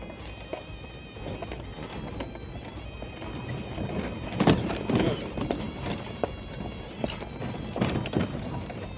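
A horse's hooves clip-clop near the Giza pyramids in a quick, uneven run of moderately close beats over faint background noise and a steady high tone, with a few louder thuds midway.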